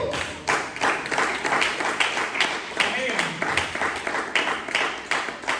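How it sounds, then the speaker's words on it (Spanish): Applause from a church congregation during a discipleship service, dense and steady throughout, mixed with voices calling out over it. "Denle un aplauso a Jesús si usted lo cree."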